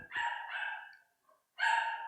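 Dog barking indoors toward the front door, two drawn-out, close barks with a tonal, slightly whining edge, separated by a brief pause.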